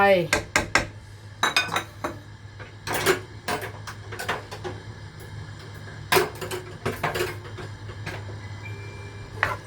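A utensil scrapes and clanks against a pan as curry paste is stir-fried in a little water for pork liver om. The sharp metallic knocks come in irregular bursts over a low steady hum, close and fairly loud.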